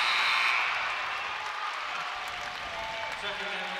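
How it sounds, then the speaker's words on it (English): Applause from teammates and coaching staff for a player leaving a girls' state high school basketball game, a soft continuous patter heard under a commentator's talk and fading slightly over a few seconds. "Izzy gets a huge round of applause from her teammates and the coaching staff"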